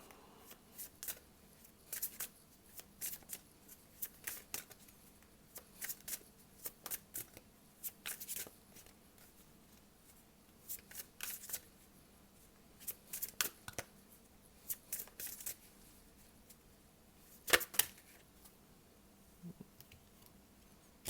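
Tarot cards are shuffled and drawn in close, crisp bursts of riffling and flicking, spread irregularly through the stretch with quiet pauses between them and a sharper snap near the end.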